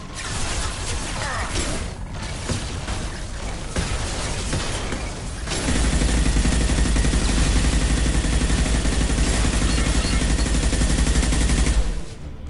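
Turret gunfire in Mass Effect 2, a dense rattling burst that runs steadily and grows heavier and louder partway through, then cuts off near the end, with battle noise beneath it.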